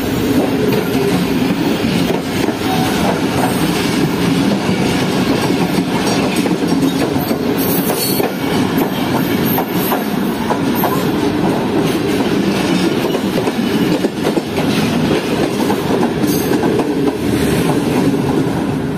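Train 47, the Rahman Baba Express, pulls into Tando Adam Junction railway station with a loud, continuous rumble of rolling wheels, rhythmic clatter over the rails and brief metallic squeals, close by with no talk.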